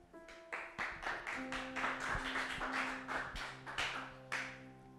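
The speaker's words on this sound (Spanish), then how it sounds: "¿por qué no me acompañas a darle un fuerte aplauso a Dios por la vida de nuestro pastor Humberto Acero?" A church congregation claps together in a lively burst of applause, sharp overlapping hand claps, some rhythmic, rising and falling over a few seconds with a faint sustained musical tone underneath.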